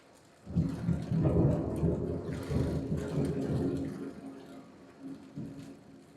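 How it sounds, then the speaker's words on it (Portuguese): Heavy rain pours steadily in Florida with low rumbles of thunder rolling underneath, a loud continuous wash that swells early and then eases slightly toward the end. "Gente, ó a chuva, vou mostrar para vocês."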